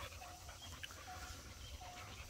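A dog pants in steady, rhythmic, soft breaths close by, with faint higher whimper-like tones over a low background rumble and no talking.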